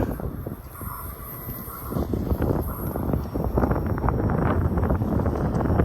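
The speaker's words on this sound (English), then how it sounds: "This train's starting to move." Low rumbling and creaking of a heavy freight train slowly beginning to roll after its brakes are released, growing louder and denser toward the end, with wind buffeting the microphone.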